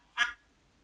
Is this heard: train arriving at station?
no